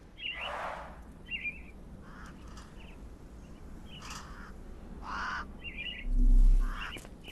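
Caged myna birds in Sherlock Holmes The Awakened give bursts of loud squawks and chattering calls, repeated at irregular intervals over a low steady background hum, with a brief deeper thud near the end.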